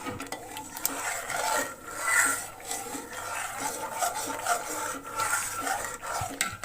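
Mango jelly made from Langra mangoes is stirred steadily in a pot with a spoon, giving soft, continuous scraping and rubbing strokes against the bottom, quiet and close.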